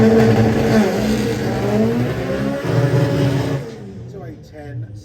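Vauxhall Nova race cars accelerating hard down the drag strip at Santa Pod during a Vauxhall show: loud, close engine roar with rising gear-change pitch sweeps that fades away near the end, under an announcer's commentary.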